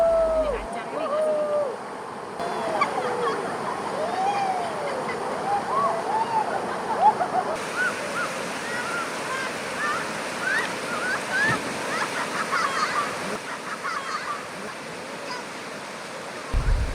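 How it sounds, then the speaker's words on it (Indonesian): River rapids rushing during a rafting run on a rough stretch of water in Pidie, Indonesia, a constant broad roar of churning water under a speaking voice, with scattered higher whistling tones riding over the wash. "Jeram yang kami lalui semakin deras."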